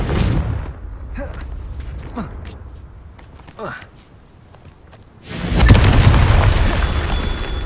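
Casting the Confringo fire spell in the Hogwarts Legacy video game brings a few quick whooshes and pops, then a loud, sustained blast that fills the final seconds.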